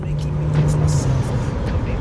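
A 1999 Mitsubishi Legnum VR4 runs with a steady low engine hum throughout, nearby and fairly loud, with faint background noise on top.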